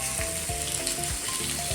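Sweet potato pieces coated with ghee and salt roast on an iron griddle with a continuous close sizzle and soft crackling, plus a few faint low knocks.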